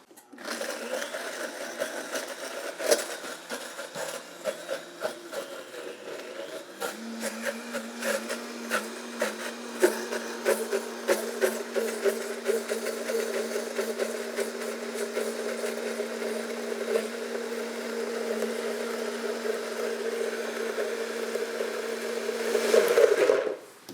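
A kitchen blender whirs through a batch of ingredients for a spring dinner, starting with rattling chops and settling into a steady high whine for about twenty seconds before cutting off abruptly, close and loud, with no talk.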